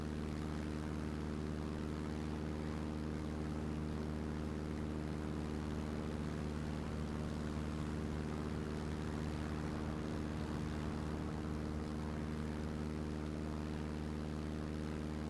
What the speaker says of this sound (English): taking off from this narrow runway and just trying to get it into the air